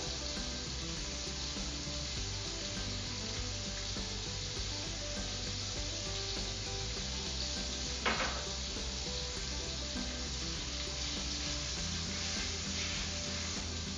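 Seafood frying in a pan for a seafood stew, a continuous low sizzle with a soft rubbing, scraping texture and one brief clack partway through, with no talking.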